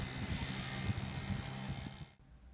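Low droning engine rumble of an aircraft passing steadily for about two seconds, then cutting off abruptly, with faint background noise after.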